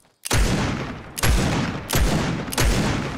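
A scoped revolver firing in Fortnite, with four loud, close shots spaced roughly a second apart, each a sharp crack followed by a ringing boom that decays before the next.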